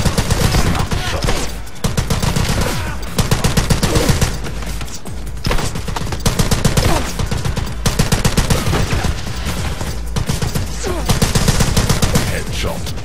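Rapid bursts of loud video game gunfire, with repeated shots and fusillades in a shooter set in Venice's canals, fill the clip in dense clusters with brief pauses between volleys.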